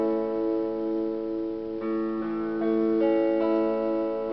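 An open major chord on guitar rings out with its strings sounding one after another, the notes sustaining together into a full, even chord.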